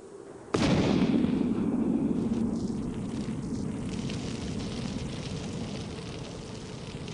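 A single cannon blast booms suddenly, loud and close, then a long rolling rumble slowly fades over several seconds with no talk.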